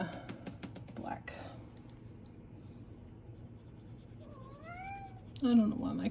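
An attention-seeking house cat meows a few times in rising, drawn-out calls, the loudest near the end, after earlier tapping and soft rustling in a room.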